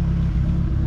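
Nissan Skyline R32 with an SR engine idling and revving in a loud, close, steady low rumble that holds for under a second with no one talking.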